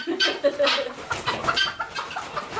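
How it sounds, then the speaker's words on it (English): A young chicken clucks and makes strained, breaking attempts at crowing in a cold winter farmyard, loud and close, a run of uneven calls with other fowl sounds around it. "Are you learning how to crow?"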